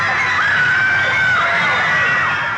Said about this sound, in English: Even they're cheering like mad.